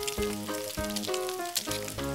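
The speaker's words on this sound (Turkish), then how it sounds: "Soğanı da biraz kızartalım." Onion sizzles on a toy Barbie barbecue playset, a close crackling fry heard over a steady musical background.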